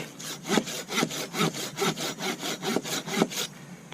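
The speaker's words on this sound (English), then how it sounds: "these Silky saws only cut on the pull, not both ways" A Silky hand saw cuts through wood with a steady run of about ten strokes, each pull loud and rasping close by, shorter pauses between them, no talking.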